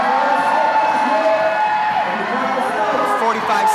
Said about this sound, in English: asking for some support from the crowd